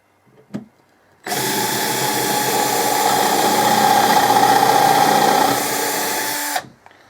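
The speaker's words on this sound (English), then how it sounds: "Put the countersunk bit in the screwdriver this time." A cordless screwdriver fitted with a countersink bit bores into softwood, a loud steady motor whine with cutting chatter lasting about five seconds after a brief tap, then stopping.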